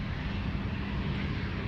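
A passenger aircraft begins its takeoff roll on runway 16 right at Sydney Airport, a steady, broad engine roar heard at a distance and holding level throughout, with no talk over it.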